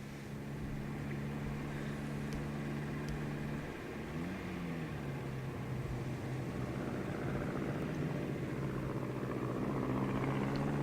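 Steady engine drone of an airplane flying overhead in the video game The 39 Steps, set over a barren moor. A continuous buzzing hum holds throughout at moderate distance, with a slight pitch bend partway through and no voices.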